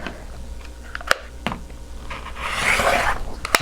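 A rotary cutter slices through a quilt block of fabric, a short scraping swish after a few sharp taps and clicks, close by with no talk.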